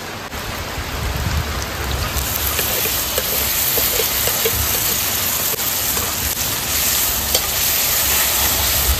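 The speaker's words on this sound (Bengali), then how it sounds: "এবার আমি মশলাটা দিয়ে দেবো।" Spices tipped into fried onions in a pan, a steady dense sizzle running the whole time and mixed with heavy rain and gusting wind outside, with no one talking.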